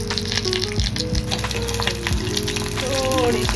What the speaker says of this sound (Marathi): आणि आता मम्मी टाकते तेल.